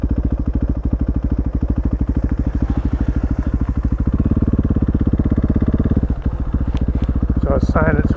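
A motorbike engine runs close by with rapid, evenly spaced firing pulses, a loud throbbing chug that holds steady, with a brief voice near the end.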